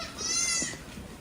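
A goat on a goat farm gives one short, close bleat in the middle of a quiet farm setting, with no talk.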